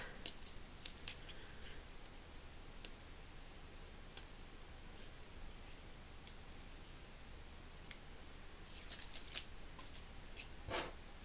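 Scissors cutting tape during a craft project with a reused spool: faint, close snips and clicks scattered over a quiet background, with a brief louder cluster near the end.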